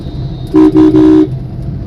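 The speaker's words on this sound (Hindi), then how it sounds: "हॉर्न का इस्तेमाल जरूर कीजिएगा।" A car horn honks three quick times in a row, loud and close, over a low rumble of road noise in a traffic jam.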